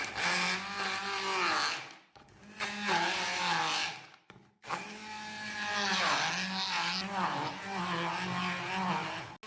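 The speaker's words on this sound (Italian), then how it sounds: "Frulliamo tutto con un frullatore ad immersione." An immersion blender whirs through a green sauce made with extra virgin olive oil, running in three loud bursts separated by short pauses, its motor whine rising and falling.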